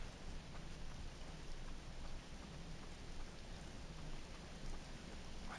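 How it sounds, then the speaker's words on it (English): Rain falls steadily in the video game Voices of the Void, a soft, even wash of hiss with a faint high whine above it, continuous and fairly quiet with no voices. "Don't like being out here in the rain."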